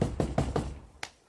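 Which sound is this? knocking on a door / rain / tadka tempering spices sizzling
knocking on a door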